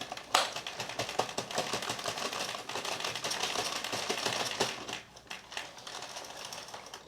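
A Sentro 40 knitting machine being cranked through a full row without yarn, giving a steady, dense stream of close mechanical clattering and ticking that dips briefly before resuming.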